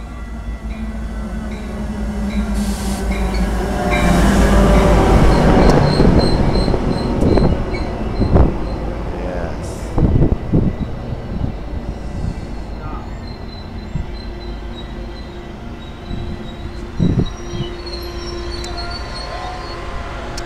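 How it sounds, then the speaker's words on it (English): A train rolls in with a steady rumble, squealing wheels and metallic clanks as it slows, fairly loud and close, with faint voices in the background. "Waiting for the train, here it comes."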